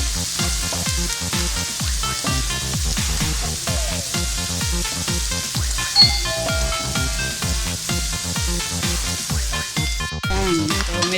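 Chopped onions sauté in a hot pan for Filipino Jollibee-style spaghetti, a loud, continuous sizzle with rhythmic crackling, a bright clink near the end, no voices.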